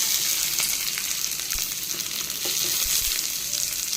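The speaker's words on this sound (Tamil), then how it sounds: "அடுத்து வெங்காயத்தை போடுறேன்" Chopped onion sizzling in hot oil in a pan while making sago (javvarisi) uttapam, a steady broadband frying hiss with faint crackles throughout, close and fairly loud with no talking.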